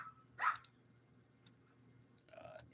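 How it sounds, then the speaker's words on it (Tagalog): A single sharp dog bark rings out, followed later by a softer yip, faint and somewhat distant in a quiet room. "may ingay yung mga aso ko"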